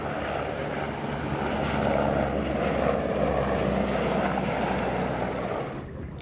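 A helicopter drones over a harbor, a continuous rumbling roar holding at a fairly even level throughout, with no talking.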